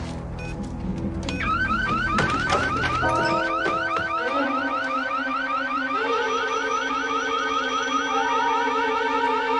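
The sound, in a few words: alarm going off after being triggered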